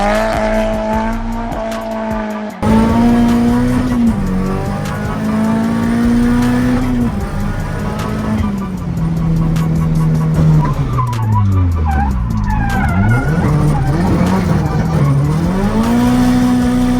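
SR20-powered race car driven hard, the engine note rising and falling continuously through gear changes while the tires squeal loudly in long skids, close and dominant throughout.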